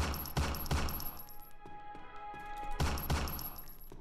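Gunfire in the video game TimeOut as shots hit a wall, loud bursts of rapid shooting at the start and again near the end, with a quieter lull and lingering electronic tones between.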